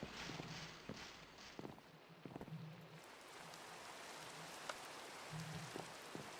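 Rain in Thaumcraft, a Minecraft mod, falls as a soft steady hiss with faint scattered drop ticks and a few brief low thumps, quiet and continuous with no talking.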